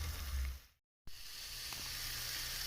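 Masala for rajma sizzles in a pan, a steady hissy fry heard up close that cuts out briefly for a moment and then resumes evenly, with no voices.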